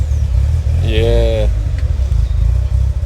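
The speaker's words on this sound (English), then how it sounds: "now we've got the mic inside the car so you can hear all the hectic screamer pipe noises" A Mitsubishi Evo 8 with a turbo engine and screamer pipe, heard from inside the car as a deep, steady low rumble, with a brief voice speaking over it partway through.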